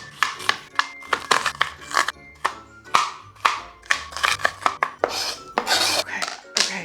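A knife chops an onion on a cutting board, giving a quick run of sharp, close taps in uneven bursts that carry on steadily throughout with no talking.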